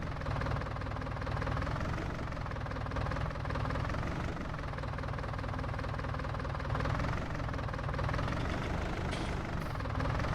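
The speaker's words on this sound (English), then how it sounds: "This little tractor works actually pretty good." Small tractor engine idling in Farming Simulator 19, a steady low, rumbling drone with a slight knocking pulse that holds at an even level throughout, with no talk over it.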